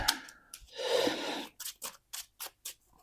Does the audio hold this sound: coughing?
no